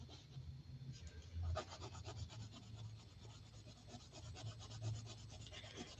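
A Rose Art coloured pencil is sharpened with a steady, faint, close wooden rubbing and scraping that runs through the whole passage without talk.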